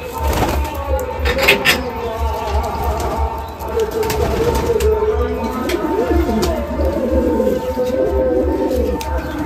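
Madrasi pigeons, Andha and Fulshira types, coo close by in soft, repeated low calls mixed with faint rustling and brief chirps.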